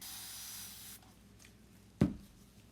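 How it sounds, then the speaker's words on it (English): A fine mist sprayer releases one steady hiss lasting about a second, then a soft thump follows in the quiet. "Those micro mist sprayer is amazing."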